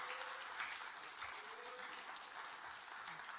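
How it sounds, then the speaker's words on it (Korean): Soft, sustained applause from a crowd in a large room, heard faintly at a distance, with a steady wash of clapping throughout. "큰 박수 한번 부탁드리겠습니다"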